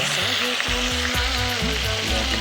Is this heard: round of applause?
no